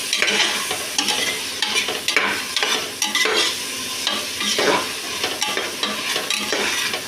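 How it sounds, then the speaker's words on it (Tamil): A spoon stirs tomatoes and onions frying in a pan, sizzling steadily and close by, with repeated scraping strokes every second or so and no talk. "அடுத்ததாக தக்காளியை போட்டாச்சு. நல்லா கிண்டிக்கலாம்."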